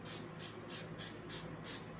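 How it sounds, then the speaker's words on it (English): Cooking oil sprayed from a can over whole bell peppers and tomatoes on a sheet tray before broiling: six short, evenly spaced bursts of bright hiss, close and clear with no talk. "Spray with oil."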